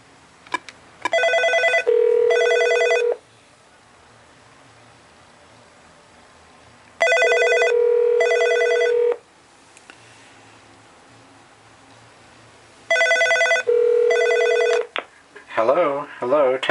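A desk phone on a Northern Telecom Norstar PBX rings an extension, giving three loud electronic double-burst rings several seconds apart with quieter room noise between them and a voice starting at the very end.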